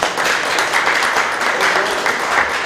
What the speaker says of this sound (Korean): 아주 잘 박수 쳐요. 박수.